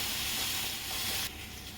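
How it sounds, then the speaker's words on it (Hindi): Ginger-garlic paste sizzles steadily in hot oil while being browned, a continuous close hiss that drops slightly in level near the end, with no talking. "इसे मैं थोड़ा भून लेती हूँ, इसका कच्चापन निकलने तक"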